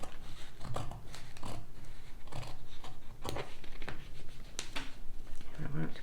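Scissors cut through a paper sewing pattern in repeated snips and slicing strokes at a steady pace, heard close and clear over a constant low background.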